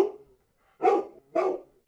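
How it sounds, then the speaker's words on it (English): A dog in the video game The Cat Lady barks twice in quick succession, loud and close, after a brief faint sound and a short silence. "That's a dog."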